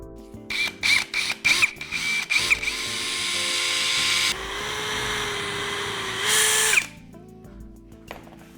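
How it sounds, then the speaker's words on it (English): A power drill bores a small pilot hole in a wooden board for a swivel cabinet, starting with several short trigger bursts. It then settles into a steady, loud whine that climbs briefly in pitch before cutting off abruptly. "Remember to do the small drill first."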